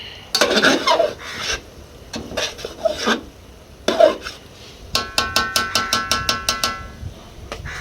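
A spoon scrapes and rasps through a large pot of pulao rice, about two kilograms, in rough strokes. Then comes a quick run of sharp metallic taps against the rim, with no talking.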